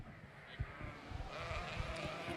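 A Dorset yearling ewe bleats faintly in a sheep show ring, the calls sitting under a low murmur of background voices.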